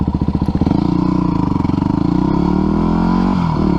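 A motorcycle engine runs close by, its pulsing idle climbing into a steady, revving drone as the bike gets under way, then dipping briefly near the end; no one speaks.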